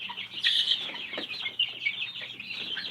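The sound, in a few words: baby chicks clucking in a brooder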